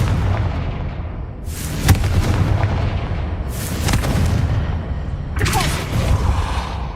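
Booming blasts of the Confringo fire spell in the video game Hogwarts Legacy, three explosive bursts roughly two seconds apart over a rumbling combat background, each hit sharp and loud then trailing off.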